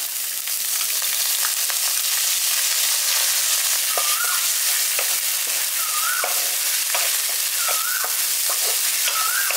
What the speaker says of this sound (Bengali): এবার পেঁয়াজগুলো আমি হালকা করে লালচে করে একটু ভেজে নিচ্ছি।